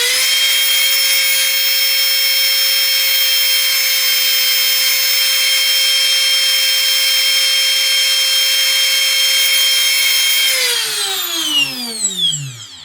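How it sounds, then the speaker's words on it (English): An electric RC helicopter motor with a governor held at full throttle, a loud, steady high-pitched whine with overtones that holds for about ten seconds, then spins down with a falling pitch. "going full throttle and lower the slider until I hear the motor change in RPM"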